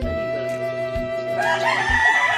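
A rooster crows loudly and close by in a rural Philippine neighborhood, one long harmonic call held steady and then rising in pitch toward the end, with no voices over it.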